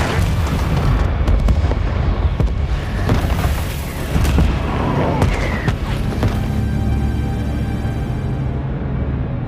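Mortar blasts in an action film boom repeatedly with heavy, rumbling explosions as a car is flipped, a dense layer of crashing debris and booms before the roar fades.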